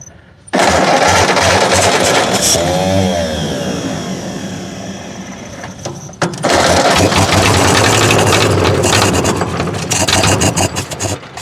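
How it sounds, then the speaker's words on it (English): An old Caterpillar D8 bulldozer, idle for over twenty years, runs loud and close with a steady rumbling diesel roar. A brief dip in the middle gives way to more running. "get the pony motor fired up, get the big motor fired up"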